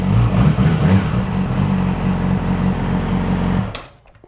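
A warmed-up Yamaha R6 motorcycle engine idles with a close, steady, buzzy rumble for several seconds before cutting off into quiet.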